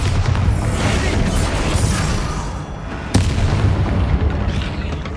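A Bombarda spell explodes in Hogwarts Legacy during a tomb fight, a heavy booming blast over continuous loud rumbling, with a sharp crack partway through followed by more rolling explosive noise.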